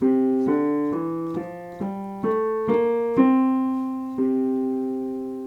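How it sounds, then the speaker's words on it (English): A sustained, organ-like instrument plays a stepwise scale upward, a Mixolydian mode, with each note held and a longer final note. "which is the Mixolydian scale. Sounds like this."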